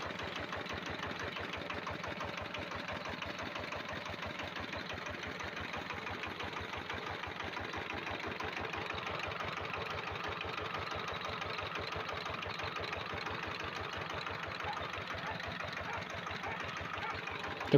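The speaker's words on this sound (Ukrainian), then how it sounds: "ось такий чудовий генератор получився" A homemade generator rated around 860 W, built as an attachment for a walk-behind tractor, runs steadily with an even, rapid engine chug that is moderate and continuous throughout.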